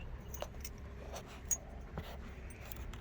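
Car keys jangle in short, scattered metallic clinks and rattles, fairly close but quiet, over a low steady background rumble with no talking.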